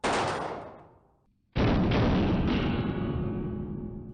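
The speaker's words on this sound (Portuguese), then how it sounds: "a Kalashnikov pode disparar um único tiro ou entrar em modo metralhadora" Two loud, close shots ring out from an AK-47 Kalashnikov assault rifle chambered in 7.62x39 mm. Each is a sharp crack with a long booming tail, and the second follows about a second and a half after the first.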